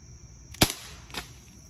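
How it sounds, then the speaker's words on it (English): A Glock CO2 BB pistol fires at a water balloon, giving two sharp, close snaps about half a second apart. The first is louder, and there is no talking. "Here's a first-hand look at what the Glock CO2 can do to the water balloon."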